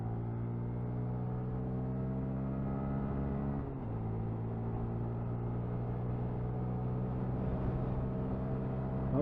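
A 2021 Honda MSX125 small motorcycle engine pulls steadily in third gear on a downhill road, a close, even droning hum with a brief dip partway through before the pitch holds and climbs slightly.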